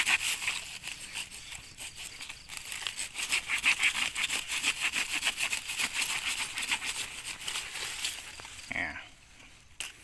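Steady back-and-forth rasping of a dull hand saw cutting through a sugarcane stalk, close and rhythmic, ending with a short crack and a pause.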